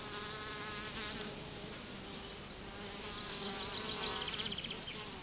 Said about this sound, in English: The bees collect nectar and pollen from the flowers for food.